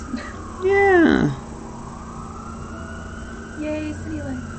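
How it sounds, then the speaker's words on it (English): An emergency vehicle siren in a downtown city swoops briefly, loud and fairly close, then returns faintly a few seconds later over a steady background hum. "Just some ambient sirens."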